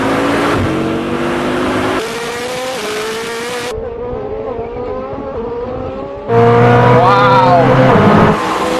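Koenigsegg Jesko hypercar accelerating in a race, its engine pitch climbing through rising revs with shifts between gears, loud and close, ending in a stronger surge of roaring acceleration.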